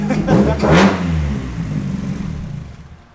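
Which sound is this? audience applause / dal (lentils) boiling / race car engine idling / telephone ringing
race car engine idling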